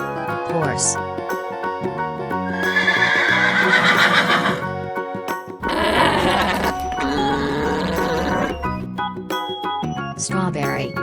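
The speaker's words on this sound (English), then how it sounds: "Horse" A horse in a children's farm-animal toy song neighs and whinnies in bright bursts over a musical backing, with clip-clop hoofbeats and a cheerful voice naming animals.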